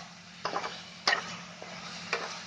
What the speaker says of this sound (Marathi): आता चांगलं भाजून घ्यायचं.